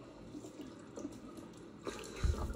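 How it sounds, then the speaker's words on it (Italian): Tap water runs into a bathroom sink while someone rinses their face, a soft continuous splashing with louder sloshes near the end as hands scoop the water. "Sciacquiamo un attimo il viso."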